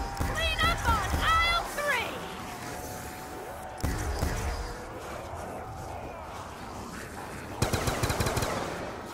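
Gunfire from a gun in a zombie shooter video game, bursts of rapid shots mixed with game effects and excited talk.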